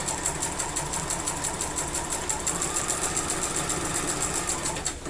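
Sewing machine stitching a strip set for a bargello heartbeat quilt block, running steadily at speed with a fast, even mechanical whir and rapid needle ticks throughout, close and loud with no talking.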